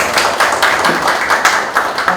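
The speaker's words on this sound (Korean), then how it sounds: "박수로 환영해 주시기 바랍니다" Audience applause welcoming a presenter at a commemorative debate forum in Seongnam, a steady wash of many hands clapping close and loud with no voices over it.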